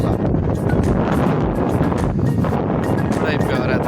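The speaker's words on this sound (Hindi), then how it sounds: "देखो कैसी प्यारी हवा चल रही है" Outdoor wind in a village, a steady broadband rush with microphone buffeting throughout, loud and continuous, with someone talking over it.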